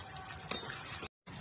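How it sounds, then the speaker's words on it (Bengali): Garlic, onion and green chilli fry together in hot oil with black cumin in a pan, giving a brief, steady close sizzle that cuts out abruptly and then resumes. "রসুন, পেঁয়াজ, কাঁচা লঙ্কা দিয়ে একসঙ্গে ভেজে নেব"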